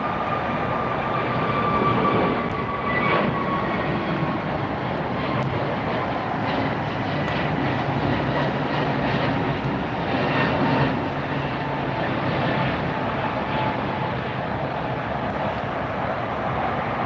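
A jet airliner departs from LAX, a loud, sustained engine roar that rises and slowly drifts in pitch as it climbs away, with no talk over it.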